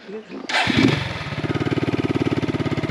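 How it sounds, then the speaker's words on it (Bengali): A motorcycle engine kicks to life after a brief voice, then settles into a rapid, even idle putter close by. "বাবুদা আমাকে বাইকে করে কাষ্টস্থানী বাজারে দিয়ে আসছে"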